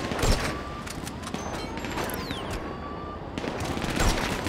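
Rapid bursts of gunfire in the video game GTA 5 crackle in dense clusters, with sharp repeated shots over a busy, noisy game soundscape.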